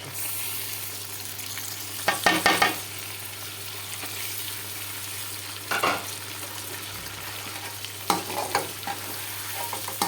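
Chicken with ginger garlic paste sizzles frying in a pan with a steady hiss, broken by three bursts of stirring and scraping spaced a few seconds apart.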